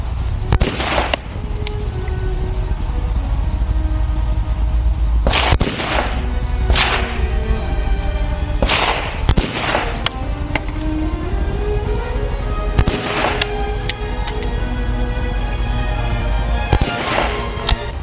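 Sharp, loud AK rifle shots crack out one at a time at irregular intervals, each followed by a brief ringing echo, over low background rumble.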